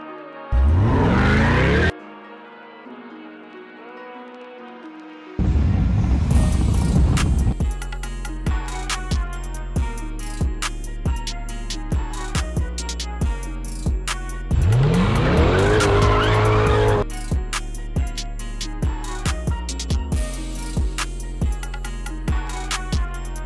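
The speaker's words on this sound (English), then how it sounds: "Get that good old cold start." A C8 Corvette's engine cold-starts with a loud, close burst of revving, then settles into a busy, high idle, with a second loud flare of revs partway through before it drops back to a steady, ticking idle.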